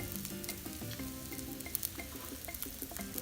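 A smoked lamb omelette sizzles quietly in a pan, a steady close crackle with a few scattered sharper pops and soft utensil touches, no voices present.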